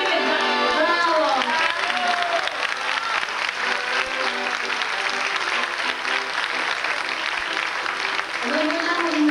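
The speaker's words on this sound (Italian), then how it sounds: "Allora applaudiamo insieme e bravo!" A theatre audience breaks into sustained applause at a cinema-theatre dialect comedy show, steady dense clapping filling the whole stretch, with a voice calling out briefly near the start.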